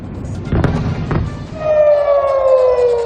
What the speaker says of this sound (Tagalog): ang alingaw-ngaw na mga sirena sa Tel Aviv